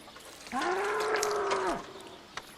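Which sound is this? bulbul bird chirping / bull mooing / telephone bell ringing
bull mooing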